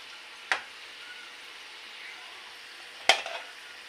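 Leaf-wrapped pitha cakes fry in hot oil with a steady soft sizzle throughout, broken by two sharp metallic clinks of a utensil against the pan.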